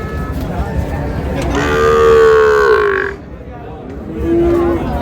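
Dairy cows with a calf at a village cattle market give a long, loud moo followed by a shorter one, close by, over the murmur of a crowd and someone talking.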